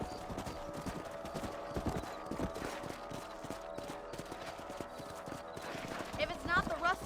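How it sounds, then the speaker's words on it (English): Horses gallop in Red Dead Redemption video game, fast rhythmic hoofbeats under a faint game score, with a brief whinny and voices near the end. "Let's get back on the horses and see what else is going on."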